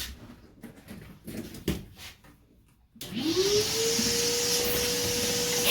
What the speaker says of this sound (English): I need more vacuum.